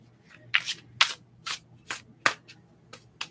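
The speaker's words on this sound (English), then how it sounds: "You need to shuffle your cards a little bit more." Tarot cards being shuffled by hand in a quiet room, a series of about nine crisp riffling bursts at an uneven, roughly half-second rhythm, close and soft, with no talking.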